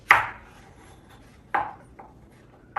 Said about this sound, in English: I'm gonna cut this onion in half